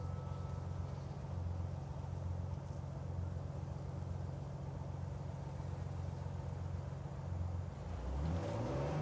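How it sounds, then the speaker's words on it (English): Jeep driving in Uncharted 4, a steady mid-level engine drone that holds for several seconds and then rises as the vehicle revs up at the end, with no talk. "Here's a clip of you driving the Jeep."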